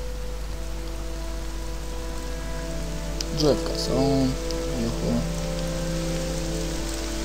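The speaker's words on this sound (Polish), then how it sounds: "Oczywiście deszcz pada, tak." Steady rain in the video game The Elder Scrolls III: Morrowind hisses throughout, with a voice speaking briefly over the downpour in the middle.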